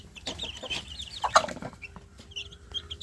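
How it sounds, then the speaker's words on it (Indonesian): Young free-range village chicks in a crowded brooder box cluck and peep in short, soft bursts close by, with light scratching and shuffling between calls. "Kotaknya semakin penuh karena anak ayam kampungnya semakin besar."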